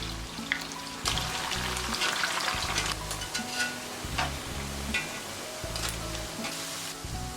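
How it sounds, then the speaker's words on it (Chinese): Small potatoes deep-fry in hot oil with a dense, steady sizzle and crackle throughout, close and continuous, with no voices. "炸至表面金黄焦脆。"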